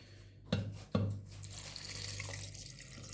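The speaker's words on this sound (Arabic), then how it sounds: "وغندير اطرو ديال الماء" Tap water pours into a pot of sugared lemon juice for a large batch of lemonade, a steady close splashing stream after two sharp knocks, with no talk.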